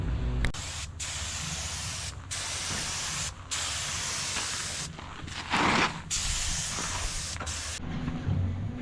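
Spray gun applying primer sealer to a hot rod body ahead of a black patina top coat: steady close hissing bursts, several seconds each, broken by short pauses as the trigger is released, with no talking.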